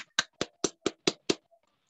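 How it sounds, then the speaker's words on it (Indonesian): Seven crisp hand claps land at an even, quick pace, close and distinct, followed by a brief quiet tail. "Tepuk tangan dulu yuk buat teman-teman kecil di rumah."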